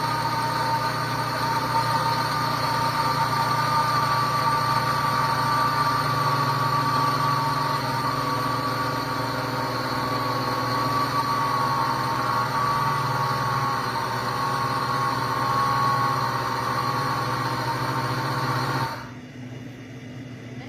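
A DXCB coffee grinder grinds coffee beans with a steady, loud motor whine and churning rush that holds for about nineteen seconds, then cuts off abruptly near the end.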